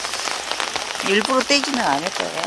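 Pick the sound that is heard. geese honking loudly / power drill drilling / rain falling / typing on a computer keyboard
rain falling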